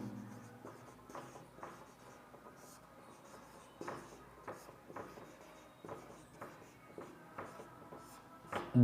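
Chalk or marker writing on a board in a classroom, with soft, repeated scratching and tapping strokes at a moderate distance.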